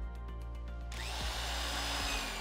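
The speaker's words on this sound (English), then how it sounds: "they drill a chase for running electrical wires up to the switch box" A power drill bores a wire chase down through stacked logs of a log home wall under construction, a steady loud grinding whir that ramps up partway through and runs without pause.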